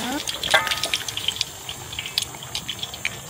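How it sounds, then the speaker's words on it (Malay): Water is poured into a blender, a close, splashy trickle with small irregular gurgles and drips. "Kita tambah air dalam blender."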